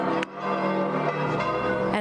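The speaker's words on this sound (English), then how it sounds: "As the bells echoed through Vatican City" Church bells ring in Vatican City over St. Peter's Square in heavy rain, their sustained overlapping tones loud and continuous, echoing across the square.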